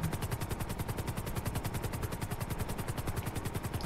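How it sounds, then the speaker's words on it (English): Rapid, steady thumping of helicopter rotor blades in GTA V, a fast even chop under a constant engine whine, close and unbroken. "This is a pretty fast helicopter."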